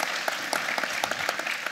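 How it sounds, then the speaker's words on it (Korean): A conference audience gives a brief burst of applause, many hands clapping quickly and evenly, moderately loud and close, with no voices over it. "큰 박수 한번 해주시죠"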